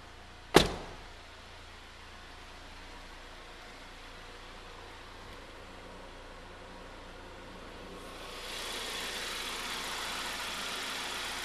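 A sharp thump opens onto the low, steady idle of a 2004 Saab 9-5 wagon's 2.3-liter turbo engine, quiet and smooth, with a brighter hiss swelling in toward the end.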